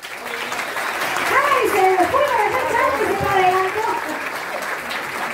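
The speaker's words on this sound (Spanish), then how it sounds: "Recibimos con un fuerte aplauso" Applause from an audience at a church talent show as a judge is welcomed, a constant wash of clapping under excited talk and children's voices across the clip.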